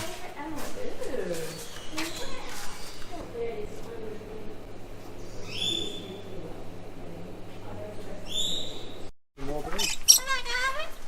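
Birds at a bird and reptile park chirp and coo over a low steady background hum, with brief higher calls near the end, while people talk nearby.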